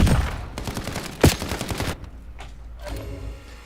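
Bursts of automatic gunfire in the video game Call of Duty Warzone, a loud rapid volley with one sharp crack, then a quieter stretch of mechanical clicks and faint shots.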